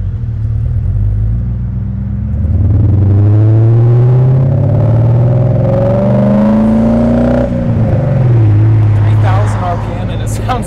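A BMW E39 M5 engine revs hard while driving, its pitch climbing and falling in long sweeps over a steady cabin rumble, loud and close from inside the car.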